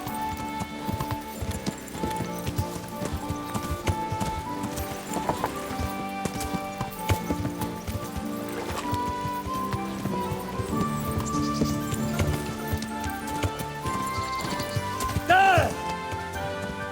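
In the medieval game Kingdom Come Deliverance, a horse's hooves clip-clop steadily and the horse gives a short neigh, all set under background music while a person talks.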